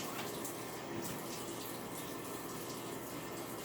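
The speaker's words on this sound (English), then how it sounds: "I'm going to wash my hands here." A kitchen tap runs steadily as hands are washed after preparing a fruit and cinnamon breakfast, a constant close hiss of flowing water with no talk.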